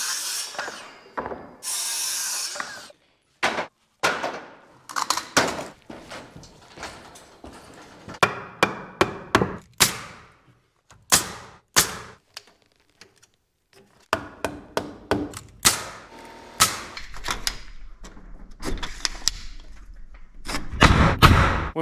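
Sharp repeated hammer blows drive wooden blocking between roof trusses on a house frame, irregular bursts of close, loud strikes with brief pauses between pieces.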